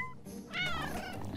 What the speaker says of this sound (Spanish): ¡Ah! Es un lindo gatito.